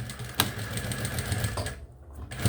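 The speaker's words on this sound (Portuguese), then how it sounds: "E aqui eu passo primeiro sempre uma costura de segurança e depois eu venho com a costura mesmo" A sewing machine runs a close, steady stitching burr along a backpack seam, stops briefly, then starts again.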